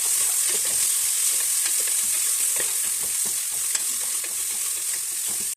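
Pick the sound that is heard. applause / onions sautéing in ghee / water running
onions sautéing in ghee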